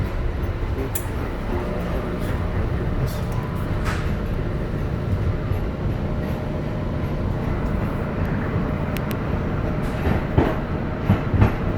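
An MBTA Green Line subway train rumbles steadily along the rails between Eliot and Brookline Hills, a continuous low roar with faint rhythmic clatter and occasional brief squeals, no talking.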